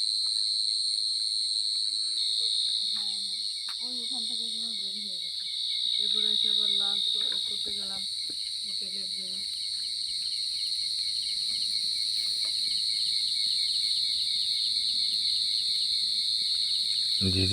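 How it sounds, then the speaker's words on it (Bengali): Crickets chirp in a steady, high, unbroken drone on a dark night at a resort during a barbecue, with a voice speaking briefly near the start. "ঝিঝি পোকার ডাক"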